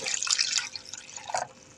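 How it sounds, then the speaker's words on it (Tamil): Water poured from a tap or jug over dried fish (karuvadu) to soak it in a home kitchen, a close splashing trickle that runs steadily and fades toward the end. "தண்ணி ஊற்றி ஊற வைக்கிறேன்."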